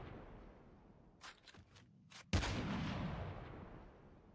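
A single gunshot in the mobile shooter Call of Duty Mobile bursts out loudly after a few soft clicks and movement sounds, then trails off in a broad rumbling decay.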